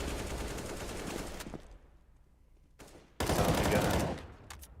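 Rapid gunfire in the Counter-Strike video game comes in two loud, dense bursts of automatic shots separated by a quieter gap, with faint background game sound.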